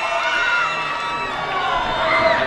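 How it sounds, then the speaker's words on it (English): Spectators at an under-16 knockout football match cheer and shout wildly after a save, a dense, continuous roar of many voices with high children's yells running throughout. "And the crowd's going wild."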